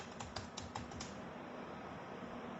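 Quick bursts of keystrokes clatter on a computer keyboard at first, then fade into quiet room noise.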